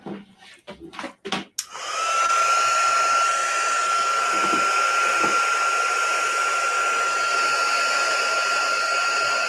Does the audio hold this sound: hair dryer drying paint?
yes